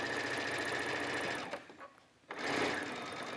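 A sewing machine runs continuously, stitching along the pleats of a t-shirt being made into a halter dress, with a steady close whirring hum that drops out briefly near the middle before starting again.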